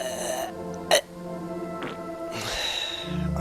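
A rough throat clearing and cough after something went down the wrong way, a raspy burst with a short sharp catch near the middle, close to the microphone with no talking.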